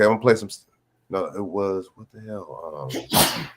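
Someone talks casually in a commentary stream, then gives one abrupt, loud sneeze near the end.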